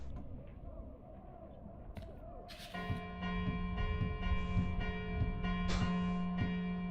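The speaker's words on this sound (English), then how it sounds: "Suddenly, a bell starts ringing over Opacum." A town bell in the video game Ash of Gods, Redemption, ringing in a ragged, urgent pattern of repeated clangs with long ringing tones, joining a low ambient background partway through.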